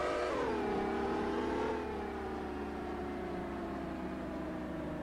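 Steady engine drone of a lowrider car driving slowly in Lowrider Comeback 2, a humming, whirring tone that dips in pitch early on and then holds flat and constant throughout.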